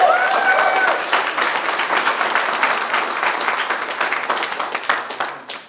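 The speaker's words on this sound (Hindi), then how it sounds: "एक बार तालियां हो जाए गौतम बाली सर के लिए।" Audience applause at a talk, a dense burst of clapping that starts loud, stays steady, then thins and fades toward the end.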